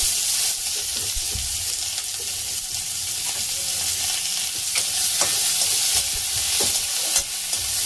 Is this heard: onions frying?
yes